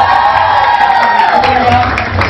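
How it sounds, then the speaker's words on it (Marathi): Loud crowd cheering and applause fill a doctors' award ceremony hall, continuous and close throughout with shouts and whoops over it. "जोरदार टाळ्या."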